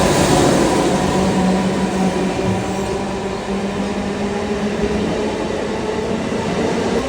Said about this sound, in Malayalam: ഈ യശ്വന്ത്പൂരിൽ നിന്ന് ഹൊസൂർ പോകുന്ന ഒരു മെമു ട്രെയിനാണ് കേട്ടോ. അതാണ് ഈ പാസ് ചെയ്ത് പോകുന്നത്.